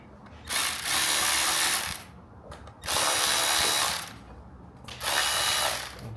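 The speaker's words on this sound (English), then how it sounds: "And the electric ratchet first." An electric ratchet drives screws on a Mercedes A124 3.6 AMG transmission, whirring loudly in three sustained bursts of about a second each, separated by brief pauses, close up.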